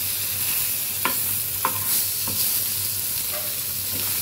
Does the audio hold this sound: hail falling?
no